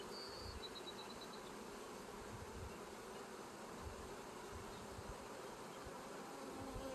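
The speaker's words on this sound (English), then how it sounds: "There's a cascade of bees just cascading down." A dense swarm of honeybees spills down from a hive frame, their buzzing a steady, close drone that holds without a break throughout.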